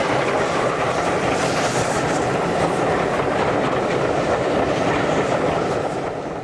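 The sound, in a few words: LNER A2 steam locomotive Blue Peter running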